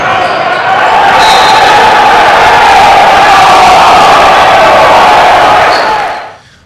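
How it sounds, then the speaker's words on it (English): Crowd at a basketball national tournament game roaring in reaction to a play, a loud, sustained wall of cheering and shouting that swells and holds for several seconds before fading out at the end. "Here's an angle where you can literally hear the crowd reaction"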